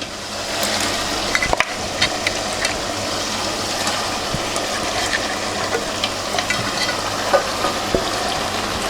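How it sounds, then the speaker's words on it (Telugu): Chicken bones fry with tomatoes in a pot for kodi charu, a loud continuous sizzle close up with scattered crackles and a sharp clatter near the start as they are stirred. "ఇప్పుడు ఈ బోన్స్ వేస్తున్నాను."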